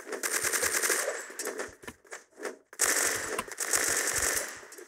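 Kriss Super V submachine gun fires in the online shooter Crossfire, loud rapid automatic bursts broken by short pauses, a sharp rattling fire with no speech.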